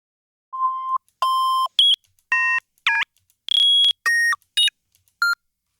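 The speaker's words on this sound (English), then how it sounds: "I could just find a beep." A series of short electronic beeps at different pitches, about nine in all, each clean and separate with brief silences between, loud and alone.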